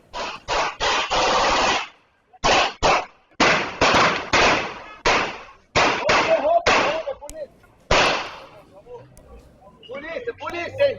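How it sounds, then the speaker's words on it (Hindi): A burst of loud, sharp gunshots in rapid succession during a street gang fight in public, some fired in quick strings, with shouting voices and commotion as people flee. "सरेआम चली है गोलियां, भागने लग गए लोग"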